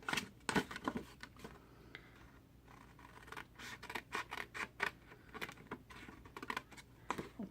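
Scissors snip through cardstock, trimming away a rectangle piece for a large Hershey Kiss box, in a close, quiet run of quick dry cuts and rustles, with short bursts separated by brief pauses.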